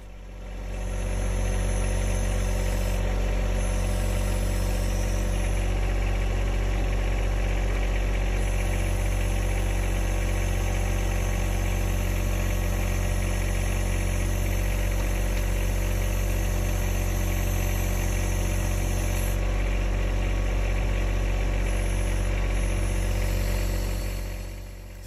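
A John Deere 1025R compact tractor's diesel engine idles steadily and close by, a low, even rumble with slight vibration that holds throughout, no voices.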